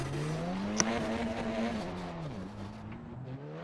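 Damaged race car in iRacing with a collapsed left front suspension, its engine droning steadily at close range with a rising and dipping pitch and faint scraping, no talk.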